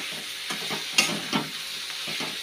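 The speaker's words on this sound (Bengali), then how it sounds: "প্রায় হয়ে গেছে ভাজাটা" Vegetable curry with tomato chutney frying in a pan gives a soft, continuous sizzle broken by several distinct scrapes and stirring knocks, close by and fairly quiet, with no talking.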